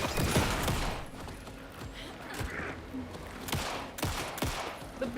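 Gunfire in the horror game Alan Wake 2, several sharp shots and rapid bursts spread across the clip, moderately loud under a person's gasps and sighs.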